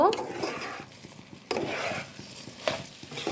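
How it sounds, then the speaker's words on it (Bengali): Washed rice being stirred in a cooking pot for khichuri, with scraping, wet shuffling strokes and a few clinks of a utensil against the metal, close and moderately loud, with no talking. "এই ধোয়া চালটা দিয়ে দিব। এখন মিশিয়ে নিব।"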